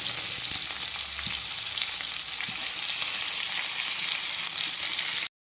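Chopped tomatoes frying and being stirred in a pan, a steady close sizzle crackling without pause, with a few soft low knocks of the spoon, and no talking.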